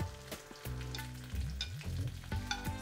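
Urad dal, curry leaves and dried red chillies frying in hot oil for a South Indian tamarind rice tempering, with steady sizzling crackle and a few sharp pops and stirring scrapes, close up with no talking.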